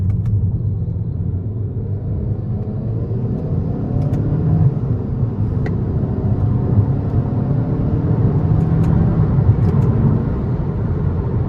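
A 2016 Kia Optima SX with a 2.0-litre turbo engine accelerates hard up an interstate on-ramp, heard from inside as a loud, steady low engine rumble with road noise and quick shift changes.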